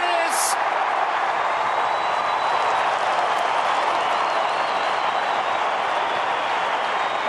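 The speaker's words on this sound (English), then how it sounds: "The crowd have been roaring for this." A stadium crowd roars at an Australian Football League match between Fremantle and Geelong, a loud, steady, continuous wash of cheering and applause that fills the space, with a commentator's voice mixed in.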